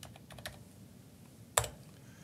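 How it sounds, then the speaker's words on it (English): Quiet keystrokes on a computer keyboard as a login and password are typed, a few soft taps followed by one sharper key press, with no talking. "Now we will log in here as Liana Hayes, LHA, password pass"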